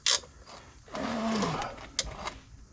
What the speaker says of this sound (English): Let's see, got one bolt started.